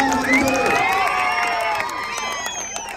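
A crowd cheers and claps at a Telugu Desam Party induction event in Challa Chintalapudi village, Denduluru mandal, with shouts and whoops rising over steady applause, loud and close throughout.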